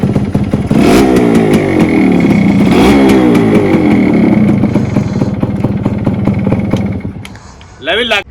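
A loud motorcycle engine runs close by, revving up and down repeatedly before cutting off near the end.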